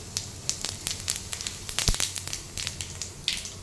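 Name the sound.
whole cumin seeds sizzling in hot oil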